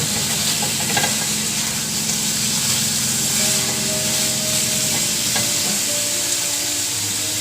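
Spicy adobo chicken feet searing with onions in a hot pan, a loud, dense, unbroken sizzle and hiss close up, with faint stirring scrapes underneath and no talk.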